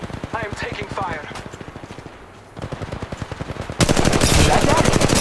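Rapid automatic gunfire in the mobile game Apex Legends Mobile, loud evenly spaced bursts that pause briefly, then resume harder and denser, with an automated in-game voice speaking over the shooting.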